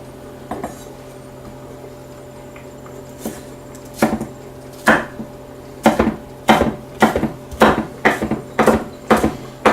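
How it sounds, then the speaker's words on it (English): Knife chopping vegetables for salsa on a cutting board, with sparse taps at first and then a steady run of crisp, loud strikes about twice a second, close up over a faint steady hum. "The chop doesn't have to be real precise when you're making a salsa."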